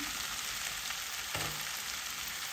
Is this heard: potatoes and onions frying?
yes